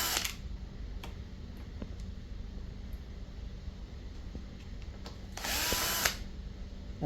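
A power screwdriver removes screws from an infrared cooker, heard as a few faint short whirs and clicks and then one louder buzzing burst near the end, in a quiet room.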